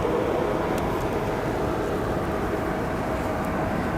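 An Atlas Air cargo jet in Kuehne+Nagel livery rumbles as a steady, broad roar of engine noise at O'Hare airport, loud and sustained with no talking.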